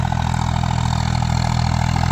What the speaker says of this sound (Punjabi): ਆਵਾਜ਼ ਚੈੱਕ ਕਰੋ ਟਰੈਕਟਰ ਦੀ ਬਹੁਤ ਪਿਆਰੀ ਲੱਗਦੀ ਆਵਾਜ਼